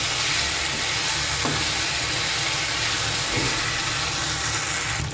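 Chicken pieces stir into masala in a hot pan, a loud continuous sizzle and hiss with faint stirring scrapes, no talking.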